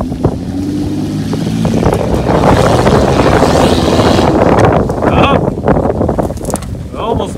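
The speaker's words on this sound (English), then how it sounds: "It's getting windy." Strong wind roars and buffets the microphone steadily on a Can-Am Maverick X3 ride, with a low engine-like rumble underneath and brief voices near the end.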